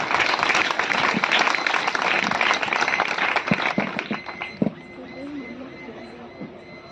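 A church congregation at a temple consecration worship service claps loudly together for about four and a half seconds, then the applause breaks off and a single voice speaks faintly afterward.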